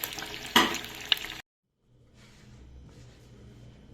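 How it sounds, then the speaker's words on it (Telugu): Eggs sizzle and fry in a hot pan for a mughlai egg curry, a bright crackling burst near the start, then a sudden cutoff before a faint, low simmering hiss returns. "ఇది ఎగ్స్ ఇలాగా కొంచెం ఫ్రై చేసుకోవాలండి"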